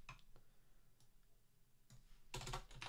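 Typing on a computer keyboard while filling in a Confluence retrospective template, heard as a few scattered soft clicks and then a denser burst of keystrokes near the end, fairly quiet and with no talk.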